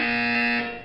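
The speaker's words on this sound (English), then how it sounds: "You will hear a buzzer." A sustained electronic buzzer from the video game Portal 2 drones loud and steady as a single tone for nearly a second, then tapers off at the end.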